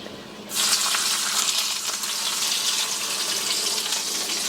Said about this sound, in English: is we're going to add 1 cup of water